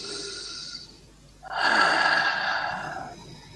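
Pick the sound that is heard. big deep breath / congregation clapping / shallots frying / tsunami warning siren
big deep breath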